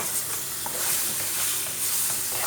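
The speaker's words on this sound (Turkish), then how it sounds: "Şöyle bir kavuralım" Steady sizzling and frying of eggplant in a pan, with occasional stirring scrapes, close and continuous.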